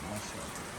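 Rain falls steadily outdoors, a dense, even hiss that runs through the whole moment, with voices faintly present beneath it.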